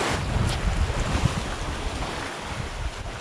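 Ocean waves wash close by on a fishing trip off Palawan, a loud rushing surf mixed with heavy wind buffeting the microphone and a low boat-like rumble.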